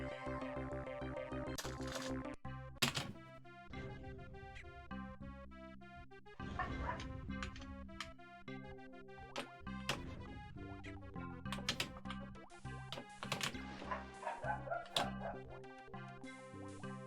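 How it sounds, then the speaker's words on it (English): Dogs barking in the DOS video game Hocus Pocus, with short yips and barks popping up repeatedly amid busy electronic game music and sound effects. "Someone please come and slay the dogs."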